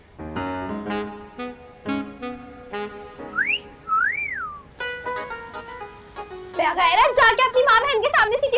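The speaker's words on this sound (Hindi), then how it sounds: "आपने सीटी बजाई है?" A young man whistles in a Pakistani comedy film, rising and falling whistled notes heard clearly between bursts of talk, followed by more lively warbling whistles near the end.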